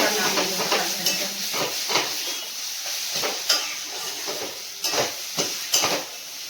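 Leafy greens fry in a kadai with a constant hiss and sizzle, broken by repeated sharp scrapes and clatters of a spatula stirring against the pan, close and fairly loud.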